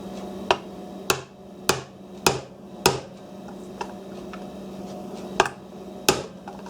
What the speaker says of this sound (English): I'm going to punch this pin out